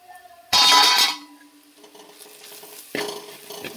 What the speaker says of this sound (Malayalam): എൻ്റെ കയ്യിൽ നിന്ന് പാത്രം കുറച്ച് താഴെ പോയ സൗണ്ടാണ് കേട്ടത് കേട്ടോ